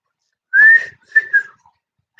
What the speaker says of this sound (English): Y'all just hear me try to whistle.